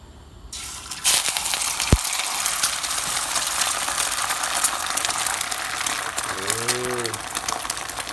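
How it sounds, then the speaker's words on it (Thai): Beaten egg with young tamarind leaves hits boiling oil in a pan, setting off a loud, steady rushing sizzle after a sharp start, with a brief voice over it near the end. "ขั้นตอนทอดของเราต่อน้ำมันเดือดนะครับ มันเดือดแล้ว แล้วก็ เอาไข่เจียวลงได้นะครับ"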